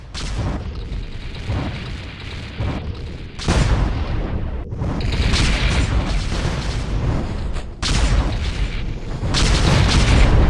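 Repeated loud booms and blasts from a robot mech battle in the game Aquaterra Mech Wars, dense overlapping explosions rumbling continuously with sharp bursts around the middle and near the end, no talk.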